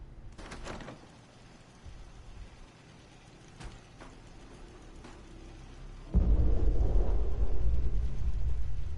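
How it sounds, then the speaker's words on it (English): A car explodes in the video game Fallout 4: a few scattered thuds and clanks lead to a sudden loud, low boom that rolls on as a heavy, continuous rumbling roar. "The car just exploded."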